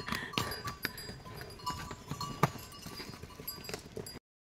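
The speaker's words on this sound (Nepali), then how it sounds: "4टा घोडा।" Hooves clip-clop in an uneven walking rhythm, four horses and a mule moving close by on a mountain trek trail, with a faint clank like a bell among the steps.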